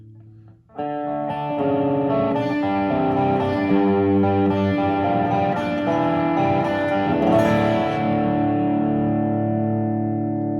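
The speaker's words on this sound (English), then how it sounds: "Now I'll let you hear it with the Ibanez Tube Screamer" After a brief quiet start, a thick electric guitar overdriven through an Ibanez Tube Screamer pedal rings out in sustained chords with a warm, gritty crunch, loud and unaccompanied.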